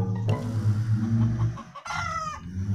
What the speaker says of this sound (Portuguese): Olha as galinhas.